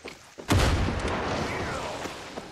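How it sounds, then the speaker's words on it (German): A sudden loud blast in Far Cry 6 hits hard and then rolls off into a long, rumbling decay of debris and echo. "Hier explodiert wieder alles um mich herum."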